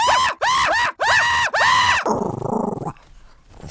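A dog barks loudly and harshly in four quick bursts at another dog outside, then drops into a lower snarling growl that fades, all close and unaccompanied by talk.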